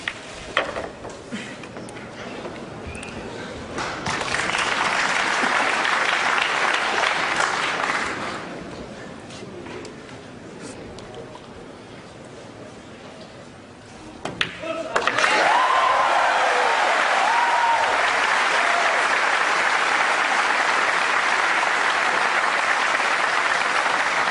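Crowd applause at a professional pool match between Ralf Souquet and Ronato Alcano, a steady broad roar of clapping that dips for a few seconds midway and then swells loud again.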